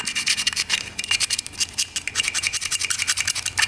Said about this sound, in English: we're going to try to scrape as much of this off as we can